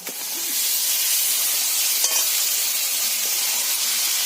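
Pre-fried potatoes and bottle gourd go into hot oil with frying spices for a fish curry, setting off a loud, continuous close sizzle after an initial splash, with no talk.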